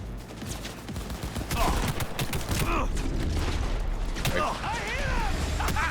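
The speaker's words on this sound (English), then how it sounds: "Opening fire. Everyone down!" Heavy gunfire in a Cyberpunk 2077 firefight, a dense, loud barrage of shots and impacts running continuously for several seconds alongside brief voices.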